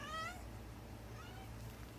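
A cat meows for food at the start, a clear harmonic call over a steady low household hum, followed by a fainter second meow later on, close by and fairly quiet.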